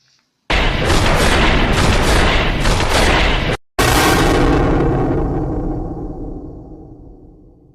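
Explosions from a fire drone attack in a war game: a loud, dense rumbling blast runs for about three seconds, breaks off briefly, then a second heavy boom rolls out and slowly fades.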